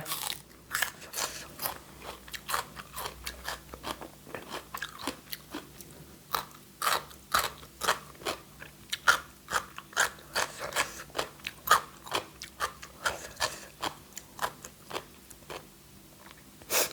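Crisp, crunchy chewing of spicy Thai fresh shrimp salad with crunchy vegetables, steady close bites and crunches repeating throughout with no talking.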